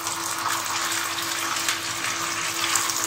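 Potato and semolina fingers fry in oil over a medium flame, giving a steady, dense hiss and bubbling sizzle that continues without a break.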